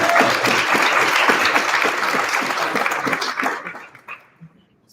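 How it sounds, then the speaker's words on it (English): An audience applauds panelists coming on stage at a youth leadership council summit, a dense, steady clapping that carries for several seconds before thinning out and fading near the end. "give them a big round of applause"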